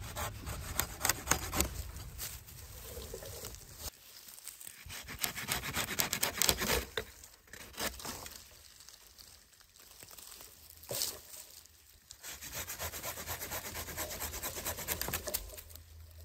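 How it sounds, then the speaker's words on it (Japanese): Firewood being cut with a hand saw at a camp gives long, rasping back-and-forth strokes, loud and close, in bursts with brief pauses and no talk. "木を切るのって気持ちよいです。"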